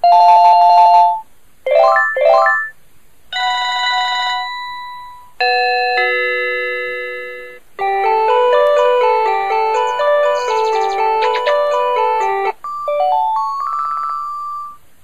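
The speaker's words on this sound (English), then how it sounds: "It's got 10 ringtones in total." Electronic ringtones from a Panasonic KX-TG2511 cordless phone play one after another, bright chiming melodies and tonal jingles in short separate bursts, loud and close with no talking.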